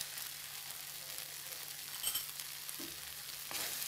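Chili paste is stirred into a curry of fried drumstick fritters, giving a quiet, steady sizzle with soft scraping and stirring sounds and a few brief clinks, no voices.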